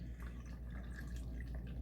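Water poured into a container for melon agua fresca, a close, steady trickling and splashing with a low background hum.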